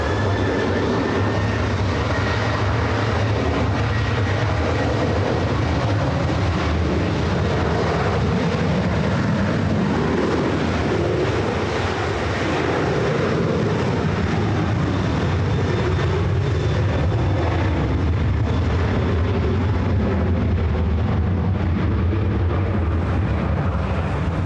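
A Boeing 737-800 jet airliner takes off at Los Angeles International Airport with a loud, sustained engine roar, steady and broadband for over twenty seconds with a slowly shifting whine.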